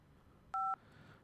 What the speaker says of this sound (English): so I can dial that number here